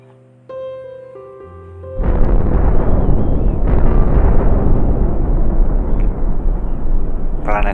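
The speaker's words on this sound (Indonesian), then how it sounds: "Inti bumi meledak, membuat rongga yang sangat besar." A massive planetary explosion as Earth's core bursts apart in a nuclear war simulation: a sudden loud, rumbling roar that swells in and sustains for several seconds, following a quieter tonal intro with soft voice-like sound underneath.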